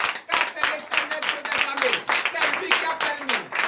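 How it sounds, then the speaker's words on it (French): Church congregation at a French-language worship service clapping in rapid rhythmic bursts, with voices acclaiming and shouting over the claps throughout. "Frères de sœurs en Christ, donnez de vive acclamation à l'Éternel."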